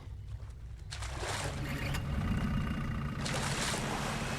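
Boat engine running steadily on open water in a TV horror drama set at a lake, a continuous low rumble mixed with wash and wind noise, with no voices.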